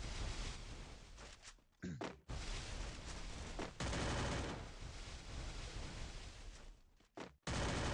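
Rapid MP5 submachine gun fire in a video game, dense sustained bursts of automatic shots broken by a few brief gaps, loud and close with no one talking.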